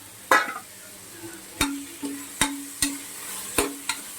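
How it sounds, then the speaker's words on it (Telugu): Onions and green chilies fry in a pan for carrot rice while a utensil stirs them, making a series of sharp scraping clinks at an irregular rhythm over a faint sizzle, close and with no talking. "బాగా వేయించుకోవాలి ఆనియన్స్ కూడా వేసేద్దాం ఉల్లిపాయ పచ్చిమిర్చి"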